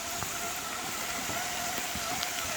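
Rain falling steadily on a wooded trail, a constant close hiss with scattered patters of individual drops and no voices.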